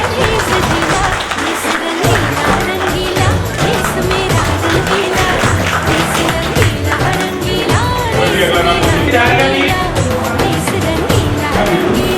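A bank function audience applauds steadily in a dense, continuous clatter that stays full and loud throughout, with voices mixed into the noise.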